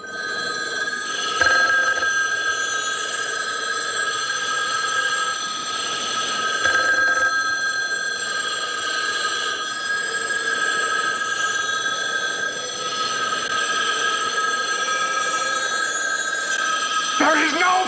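Telephones ring in the opening scene of a film, a continuous layered electronic ringing that persists throughout with voices mixed in.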